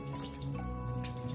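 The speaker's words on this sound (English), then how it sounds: "Now we now need to drain this juice from the tin" Juice from a tin of fruit draining through a sieve into a sink, a faint, brief trickle and patter of liquid with no voices.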